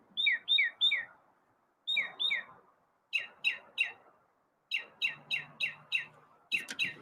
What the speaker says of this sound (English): Chirpy is just singing his or her little heart out today